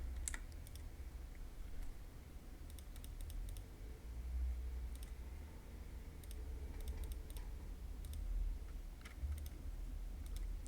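Light computer keyboard typing, brief scattered keystroke clicks heard over a steady low background hum, faint and close.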